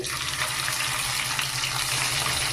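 Steady broadband sizzling of spices tempering in hot oil, continuous and fairly loud, with a low hum underneath and no talking.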